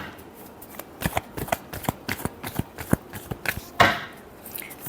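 A tarot deck is shuffled by hand close up, giving a rapid series of crisp papery riffles and slaps in an uneven rhythm that ends in a louder final burst.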